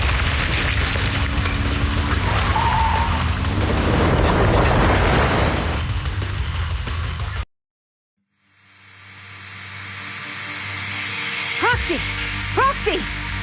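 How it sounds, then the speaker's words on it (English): Deep rumbling of shaking ground in the Zenless Zone Zero video game, a loud, dense roar building for several seconds before cutting to silence, then a low swelling drone with a few sharp sweeping tones near the end. "The ground's shaking."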